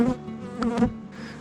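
Dense buzzing from many honey bees on their first spring cleansing flight at an apiary, flying close by, a steady drone with a couple of louder swells as individuals pass near.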